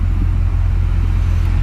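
A Mercedes CL63 AMG engine idles nearby with a deep, steady low rumble and faint pulsing throb through quad exhaust tips, loud and unbroken, with no talking.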